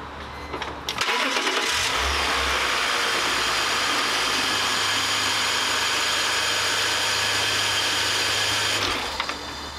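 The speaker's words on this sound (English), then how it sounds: "You may hear a little bit of a rattle noise when you first start the engine" A BMW E46 with an M54 engine starts after an oil change and runs steadily close by, with a light lifter rattle ticking over the broad engine roar until it cuts off near the end.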